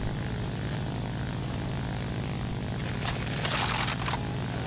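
Steady, loud propeller drone of an Fw-190 fighter's piston engine in the War Thunder flight game, with the engine running hot, continuous throughout and joined near the end by a brief rushing burst, no speech.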